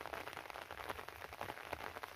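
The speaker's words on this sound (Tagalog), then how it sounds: "umuulan ngayon mga kaibigan" Steady light rain falling outdoors, a soft continuous patter of drops on surfaces, faint and even throughout with no voices.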